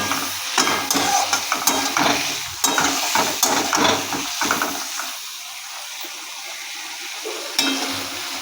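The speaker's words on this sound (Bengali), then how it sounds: "তারপর হালকা হালকা করে এই চিংড়ি মাছগুলোকে নাড়তে হবে।" Shrimp sizzling in hot oil while being stirred, with scraping clatter and bursts of crackle through the first five seconds, then a steadier, quieter fry with occasional stirring taps near the end.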